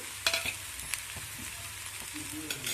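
Chutney ingredients with dried chillies are sautéed in a pan, a soft, quiet sizzle with a few scraping stirs and light clicks of a spatula, no one speaking.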